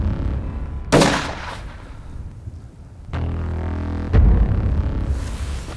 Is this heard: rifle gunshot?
yes